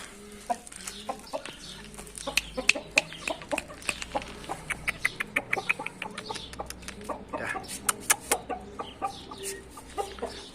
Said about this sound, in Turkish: Bende bir de Hint horozu var arkadaşlar.